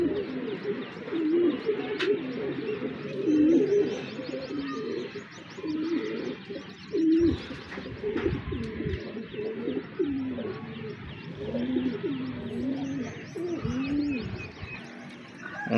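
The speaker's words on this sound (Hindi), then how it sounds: "ये देखें जी, नौजवान कबूतर हैं दोस्तों तमाम के तमाम।" Racing pigeons coo repeatedly in soft, rolling, overlapping calls close by, with a few faint chirps scattered underneath and no talking.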